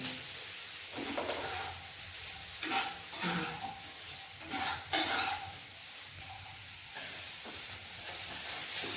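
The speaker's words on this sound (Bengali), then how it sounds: "একটু ভেজে নিই তাহলে।" Onion and tomato fry in a pan with a continuous close sizzle, punctuated every second or two by the scraping knocks of a spatula stirring.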